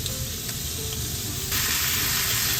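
Fish and pork belly sizzle in hot oil in a pan over medium-low heat, a steady dense hiss that grows louder partway through, with no voices.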